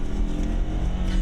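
A Ford Ranger's 2.3-liter four-cylinder EcoBoost turbo engine, rated at 270 horsepower, gives a steady low, dense rumble heard from inside the truck, with no clear rise in revs across the short stretch.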